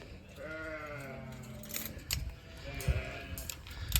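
Sheep at a barn bleat with wavering, drawn-out cries, two or three calls in close succession over light rustling and thumps nearby.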